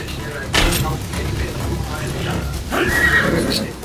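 A horse in the video game Assassin's Creed Shadows gives a loud whinny, with a second burst a couple of seconds later, while a person talks over it.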